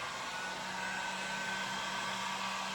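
A hair dryer blowing on wet milk paint brushed onto wood, a constant close whooshing drone with a low steady hum, unbroken and alone for the whole stretch.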